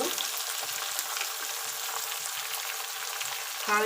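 Onions fry in hot oil with a little turmeric, a dense, steady close-up sizzle filling the whole moment with little variation and no voices.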